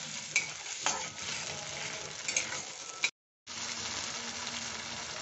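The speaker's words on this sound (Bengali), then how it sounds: "এবার ভালো করে কষে নেব।" Pointed gourd halwa being stir-fried in a pan: a steady close sizzle with scraping spoon strokes, broken by a brief silent gap before the frying resumes.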